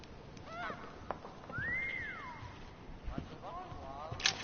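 A pet bird gives a single rising-and-falling honking call, clear and mid-loud, overlapping with people talking nearby.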